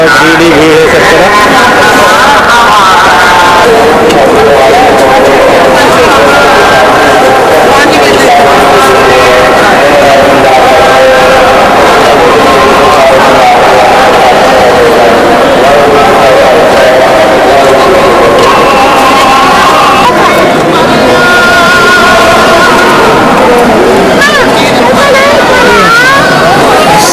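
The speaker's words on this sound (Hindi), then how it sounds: "सब भीड़ है सब तरफ।" A dense crowd hubbub at a busy Sikh gurdwara during kar seva, many voices blending into a continuous loud babble with no single speaker standing out for the whole stretch.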